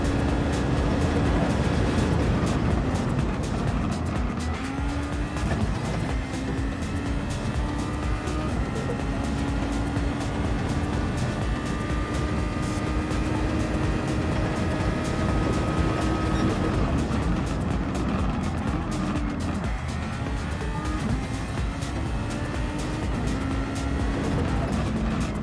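Super Formula open-wheel race car lapping a track in the racing sim GPL, its engine droning steadily with gentle pitch rises and dips through gears, continuous and fairly close for the whole stretch, with no voices.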